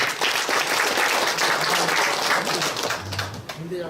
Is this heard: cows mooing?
no